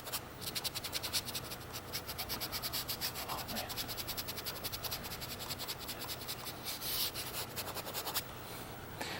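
Paintbrush scrubbing acrylic paint onto canvas in a desert sunset painting, quiet rhythmic scratchy strokes repeating rapidly and close by, with a few brief pauses.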